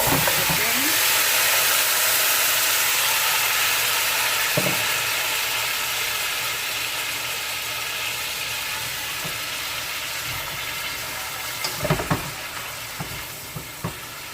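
Steady, loud sizzling of chicken and seasoning frying in a hot pan for Jamaican-style brown stew chicken, with occasional clinks and scrapes of a utensil toward the end.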